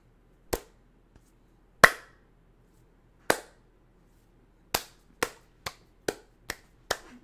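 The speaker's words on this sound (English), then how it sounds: "When I clap, it will disappear." Hand claps, a few slow isolated smacks followed by a faster run of five or six evenly spaced claps, close and crisp against near silence.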